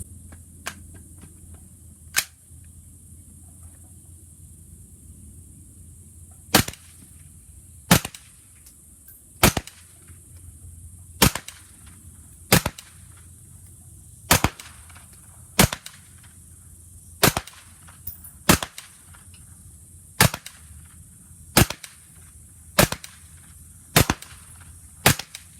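CMMG Guard radial delayed blowback rifle firing SIG 147 grain full metal jacket rounds, sharp single shots spaced a second or two apart, about fifteen in all, loud against a quiet background.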